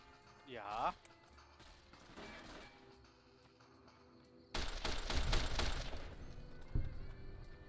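Automatic weapons fire in Fallout: New Vegas comes as a rapid, dense burst of gunshots in the latter half, after quieter game sounds and a short tonal effect, with talking over parts of it.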